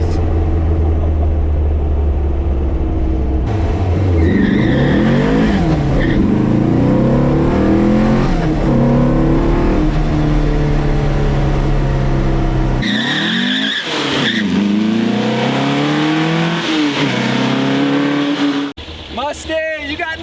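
A 1967 Volkswagen bus camper engine drives and revs up and down, with tire noise and strong low rumble, while people talk over it.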